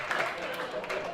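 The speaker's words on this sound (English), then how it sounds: "Boy, howdy, is that ever the dumbest applause break I've ever gotten" Audience applause at a comedy show, a short burst of clapping from the crowd heard beneath someone talking.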